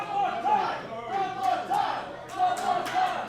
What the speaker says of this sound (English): The crowd asking for one more time.